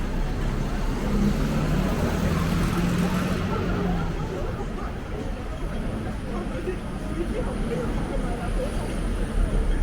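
Street traffic in Hong Kong, a continuous dense rumble of passing vehicles and engine noise close by, with a busy murmur of city sound throughout.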